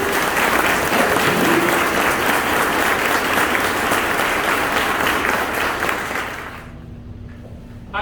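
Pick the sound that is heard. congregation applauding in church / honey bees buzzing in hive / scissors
congregation applauding in church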